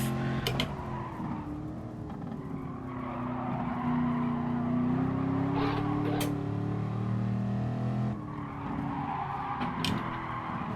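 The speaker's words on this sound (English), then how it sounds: "Drifting through the Schumacher S." A race car drifts through the Schumacher S corner in the PS4 racing game Gran Turismo Sport, during a GT League Clubman Cup race. The engine drones steadily and pitch rises and dips, with tire squeal through the bend and no talk.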